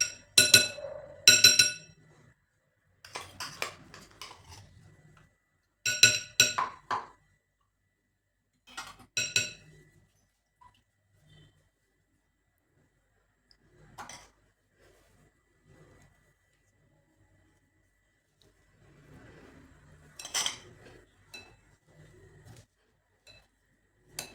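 A spoon works ghee into a sesame and jaggery filling in a bowl, giving close, intermittent bursts of clinking and scraping separated by quiet pauses, with no talking.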